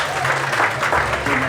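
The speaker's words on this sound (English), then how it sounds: "Ladies and gentlemen, a big round of applause for Rona" An audience at a farming awards event at the National Ploughing Championships applauding a winner: brisk, loud crowd clapping in a short burst, with a low hum and some voices mixed in.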